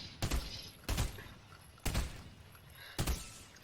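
Four evenly spaced gunshot bursts from Fortnite gameplay, each a loud short crack with a brief tail and quiet pauses between.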